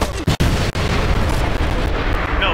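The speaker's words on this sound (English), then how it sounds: "Pop goes the explosion." A loud burst of explosions in the open-world game Watch Dogs, booming blasts with sharp crackling debris that fill the short stretch with dense, heavy noise.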